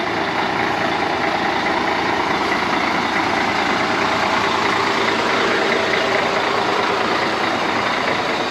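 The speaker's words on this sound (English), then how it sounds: "bus dropping people off" A bus engine idles at a stop in Magaluf, Mallorca, while dropping people off, a loud, continuous low rumble with a broad noisy wash over it and no talking.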